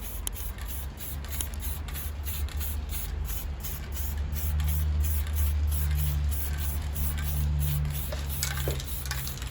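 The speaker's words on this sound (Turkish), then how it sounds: "Sprey boyamızla burgularımızı şöyle siyah çevireceğiz." Spray paint hisses steadily from a can while coating white bağlama tuning pegs black, a continuous close airy spray with slight pulsing and no speech.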